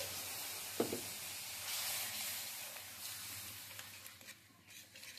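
Water poured onto fried spice paste in a hot pan hisses and sizzles in a steady, soft wash of steam, with a brief clatter near the start.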